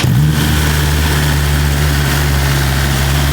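A 2025 BMW S1000RR motorcycle on its stock exhaust starts cold and settles into a loud, steady, high idle with a deep continuous drone, heard up close with no talking.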